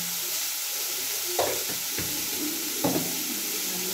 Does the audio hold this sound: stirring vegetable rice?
yes